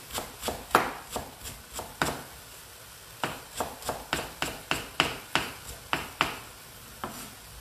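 Fresh cilantro is chopped finely with a knife on a board, a quick series of about twenty crisp, close taps in bursts with a brief pause midway, no talking.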